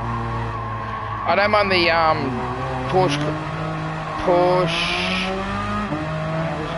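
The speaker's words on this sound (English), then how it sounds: "Get the little GT3 going." A GT3 race car in Gran Turismo 7 revs and shifts through rising and falling engine tones, with brief tire squeals, under someone talking over it.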